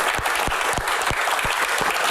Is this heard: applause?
yes